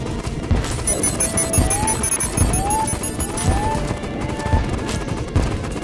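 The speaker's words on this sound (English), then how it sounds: "burning strider, because I'm attacking it with fire" Fire weapon attacks striking a burning strider in Terraria, a steady dense barrage of rapid impact bursts with rising whistling tones over a busy game soundtrack, loud and continuous throughout.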